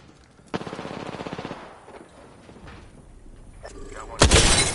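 Gunfire in the video game Conduit: a rapid burst of automatic fire up close, a quieter stretch with scattered shots, then a loud sharp blast near the end.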